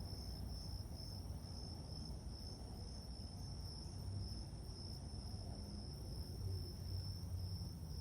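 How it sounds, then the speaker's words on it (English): Steady high-pitched crickets chirping continuously over a low nighttime hum, with no voices. "I don't know if you can hear the crickets"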